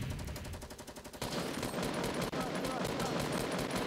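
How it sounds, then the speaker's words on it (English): Fortnite gunfire rattles in quick repeated bursts, loud and close, with a steady wash of in-game noise throughout. "I hear gunshots"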